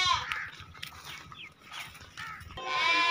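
A goat bleats among livestock at an animal market, in several wavering calls close by, with someone talking over and between them.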